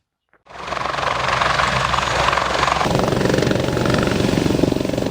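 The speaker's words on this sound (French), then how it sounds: "C'est à bord d'un hélicoptère que le gouverneur militaire de la province du Nord Kivu a atterri à l'aéroport de Mavivi." Loud, close military helicopter landing at Mavivi airport in North Kivu, its rotor starting abruptly and then chopping steadily and powerfully throughout, with no talking.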